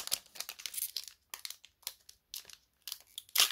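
Foil wrapper of a Pokémon card booster pack crinkling and tearing as it is opened, close and crisp, in several short bursts separated by brief pauses.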